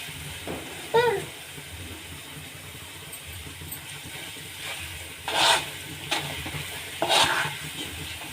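A home remedy mixture roasting in a pan, with a low continuous sizzle and a few brief louder bursts of hiss and stirring scrapes, heard up close at moderate level.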